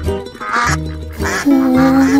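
Several ducks quacking loudly and close by in a rapid sequence of harsh, nasal calls, with brief gaps between bursts.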